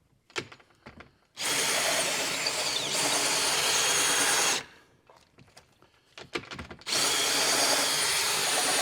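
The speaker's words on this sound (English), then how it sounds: "Hitting a screw or two. Probably time for a new drill bit, huh?" A power drill driving screws whirs loudly in two long, sustained bursts, with short stuttering revs and a quiet gap between them, while working on a Dutch door.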